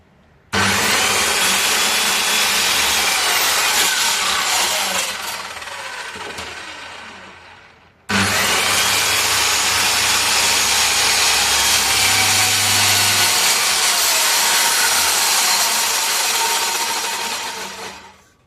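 A power saw cuts loudly through a wooden board to trim its end, two long sustained passes of harsh whining, rasping noise separated by a short pause, each fading as the cut finishes.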